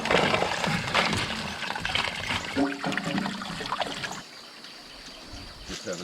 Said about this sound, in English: And I just hose it out